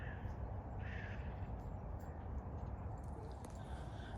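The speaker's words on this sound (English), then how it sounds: "It's a crow, Bella." A crow caws a few times outdoors, rough calls heard at a distance over heavy low wind and rumble, with a voice briefly present.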